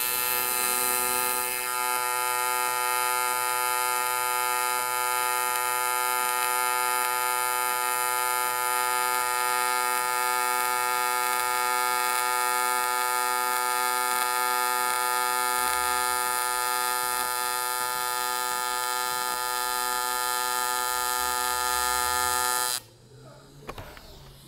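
TIG welding aluminum with a CK-MT200 Master TIG welder gives a steady, close electric buzz with a strong tonal hum lasting over twenty seconds before cutting off abruptly.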